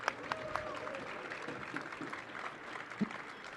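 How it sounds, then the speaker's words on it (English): Audience clapping at a boxing press conference, a moderate sustained patter with a few sharper claps standing out, mixed with crowd murmur. "round of applause for Bernard Hopkins"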